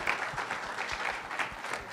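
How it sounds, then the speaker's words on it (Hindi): Audience at a film music launch applauding hit producer Firoz Nadiadwala, a steady dense wash of clapping from many hands that carries on evenly throughout with no voices over it. "एक बार जोरदार तालियां हो जाए प्लीज उनका."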